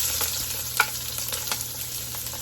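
Fried rice with red onion and garlic stir-fries in a hot pan, a soft steady sizzle broken by a few sharp scraping clicks of a utensil, close and without talk.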